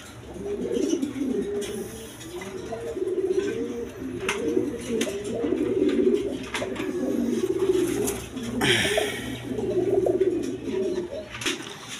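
Pigeons coo continuously in a close flock, overlapping soft rolling calls over a low steady hum, with a few sharper chirps and faint background noise.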